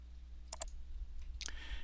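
Two quick computer mouse clicks close together, quiet and near, followed by a softer tick and a brief rustle against a low steady hum, with no talking.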